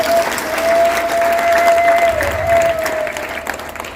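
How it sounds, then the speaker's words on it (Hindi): An audience at an International Yoga Day gathering of Vihangam Yoga breaks into loud, steady applause for about four seconds, fading slightly at the end, with a thin sustained tone underneath. "एक बार सभी पुनः एक दूसरे के उत्साहवर्धन के लिए तालियों की बजाएं।"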